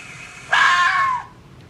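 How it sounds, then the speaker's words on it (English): A fox gives a single loud, harsh scream lasting under a second, close and alone over faint background noise. "foxes scream, and if you guys have never heard a fox scream before, let me give you an example"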